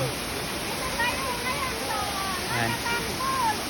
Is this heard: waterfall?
yes